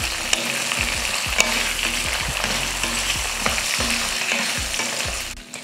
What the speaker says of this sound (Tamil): சேர்த்துட்டு இதையும் வதக்கிடலாம்.